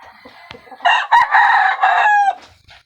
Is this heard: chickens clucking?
yes